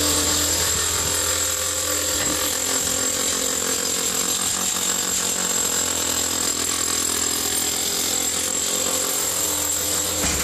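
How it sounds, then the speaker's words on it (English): A power drill bores into a house foundation for termite treatment, giving a loud, continuous grinding and hammering roar that runs throughout without a pause, with no talk. "We're drilling the foundation."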